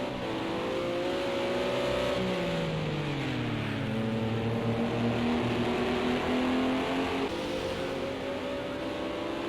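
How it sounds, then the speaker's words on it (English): Race cars in a sim racing esports event battle through the downhill drop after turn 1 toward Druids, several engines droning and shifting pitch together as they accelerate, loud and steady throughout with no talk. "is Owen Ross, but he is in a big battle with Steve Quinn as they come down through the drop at turn 1 up towards Druids"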